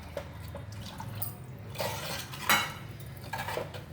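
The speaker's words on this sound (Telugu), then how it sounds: "ఇప్పుడు ఇందులో సరిపడగా నీళ్ళు వేస్తాను" Water poured into a pot of Andhra-style chicken kurma, a soft splashing and clinking of the pot under a steady kitchen background, close and moderately quiet.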